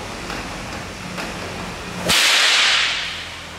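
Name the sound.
Shaolin whip rope cracking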